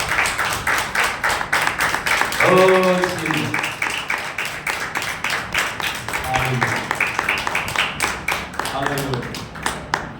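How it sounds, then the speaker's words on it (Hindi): A church congregation claps hands in praise, a rhythmic, steady beat of many hands kept up throughout, while a man sings and calls out over the clapping in short bursts. "ताली बजा के हम प्रभु के नाम की तारीफ करें"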